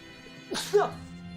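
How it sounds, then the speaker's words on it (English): A single short sneeze bursts out close by, a quick sharp exhale with a brief rising vocal tone, in an otherwise quiet setting. "I'm about to sneeze."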